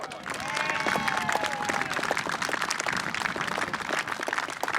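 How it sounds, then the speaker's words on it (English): Crowd at a grasstrack meeting applauding steadily, dense clapping spread across the whole clip with some cheering, loud and close. "So will you please come forward and will you please put your hands together for Mr. Red Blackboard?"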